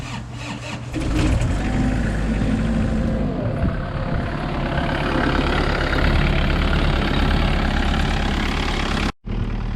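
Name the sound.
Kubota KX121-3 excavator engine running after fuel pump change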